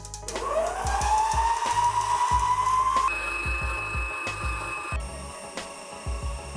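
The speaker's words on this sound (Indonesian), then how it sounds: "mixer dengan menggunakan kecepatan sedang hingga gula larut dan asal sampai rata saja" An electric mixer runs at medium speed, beating sugar until it dissolves while making a peanut snack. A close motor whine rises in pitch as it spins up, then holds steady while rhythmic scraping and knocking of the beaters continue underneath.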